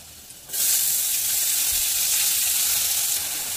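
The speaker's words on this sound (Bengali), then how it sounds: "তো এরপর এর মধ্যে দিয়ে দেবো পেঁয়াজ কুচি" Chopped onion drops into hot oil with a sudden loud onset, then a dense, even sizzling hiss holds steady nearby, with no talking.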